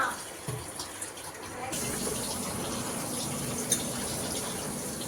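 Water runs steadily from a tap in a home kitchen, a continuous gushing hiss that starts softly and grows fuller, with family voices chatting around it.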